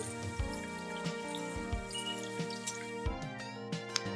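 Oxtail meat being washed with lemon under running tap water, with a steady wet splashing stream and intermittent drips and squelchy handling sounds close by, no talking.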